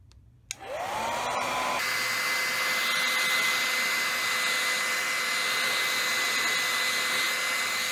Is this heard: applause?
no